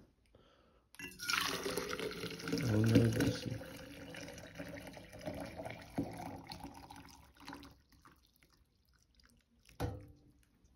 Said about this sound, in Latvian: Esmu uzvārījuši ūdeni, aptuveni 80 grādu karstu. Ieliesim praktiski pilnu.